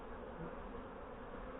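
Honey bees massing at an open beehive that is building queen cells and still wants to swarm, a dense continuous hum of many wings, close and steady with no talking.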